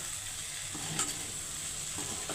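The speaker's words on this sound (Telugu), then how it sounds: "అన్నీ బెండకాయ ముక్కలకి పట్టేలాగా మంచిగా కలుపుకోవాలి" Okra and peanut fry sizzles in a pan while a spoon stirs it gently, giving a steady close frying hiss broken by a brief scrape or two of the utensil.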